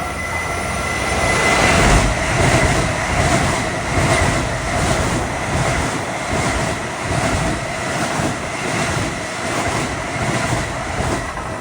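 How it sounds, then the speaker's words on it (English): A westbound Long Island Rail Road equipment train of M9 cars rolls past at Garden City, a loud, sustained rumble with rhythmic wheel clatter and faint squeal that stays close and steady throughout, with no talking. "that's because of this westbound equipment train with M9s coming"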